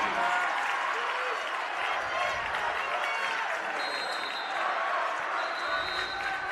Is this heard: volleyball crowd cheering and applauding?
yes